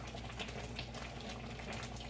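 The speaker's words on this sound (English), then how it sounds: "I'm going to take this spoon and get me a little liquid out and put it in this water" Hot peanut brittle syrup bubbles and simmers in a steady, soft, continuous wash of boiling sound with a low hum underneath, no distinct drips standing out.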